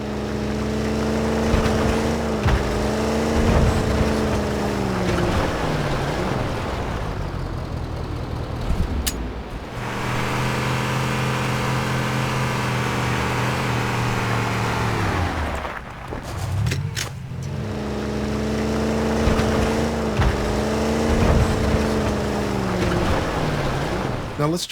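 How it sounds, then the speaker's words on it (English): In the Halo: Campaign Evolved video game, a vehicle drives over sand: a steady engine drone with shifting pitch, suspension rattles and tire crunch, changing loudness as the vehicle manoeuvres over nearly 25 seconds. "listen closely to things like the engine noise, the suspension, the sound of the tires on the sand"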